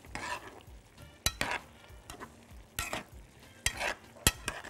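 Potatoes frying with onion and garlic in a tray get stirred, with scraping, clattering strokes cutting through a soft continuous sizzle, close and without talk.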